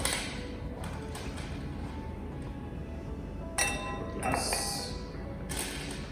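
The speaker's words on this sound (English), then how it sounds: "So if you were to add a block of ice," A block of ice added to a glass of gin, giving a couple of soft, close glassy clinks and knocks against a quiet background.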